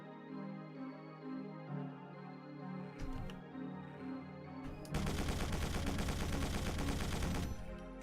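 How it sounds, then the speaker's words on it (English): Chaingunner enemy firing a rapid burst of gunfire in the Doom mod Whispers of Satan, loud and dense for a few seconds after a stretch of game music and effects. "Where the fuck is this chain gunner?"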